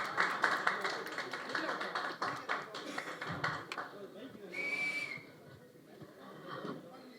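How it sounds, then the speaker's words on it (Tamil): Guests are welcomed at a Tamil film press meet for a dance concert with a burst of scattered clapping, followed by a single bright whistle over a murmur of voices and talk. "let's have a big round of applause"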